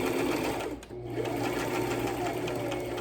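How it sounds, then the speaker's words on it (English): Electric sewing machine stitching a lanyard, a steady close whirring hum that runs almost unbroken, with a brief dip near the start before the motor picks back up. "We're going to keep sewing until we meet our first stitch."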